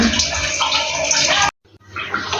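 Tap water runs steadily while apples are washed one by one for apple murabba, a continuous broad splashing rush that cuts off abruptly, followed by a quieter trickle.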